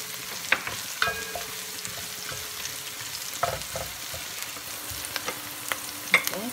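Onions fry in a pot for salmon head sinigang, a soft steady sizzle under scattered spoon scrapes and light knocks against the pot, close up with no voices.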